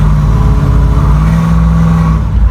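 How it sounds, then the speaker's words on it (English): A car accelerating gently from just under 30 mph, a loud steady mid-pitched engine drone with a slight rise in tone, heard from inside the cabin with no talk. "if I accelerate a little bit"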